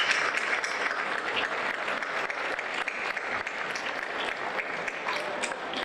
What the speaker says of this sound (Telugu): నాలాంటి వాళ్ళకి కాదు చప్పట్లు కొట్టాల్సింది, మీ గురువులకి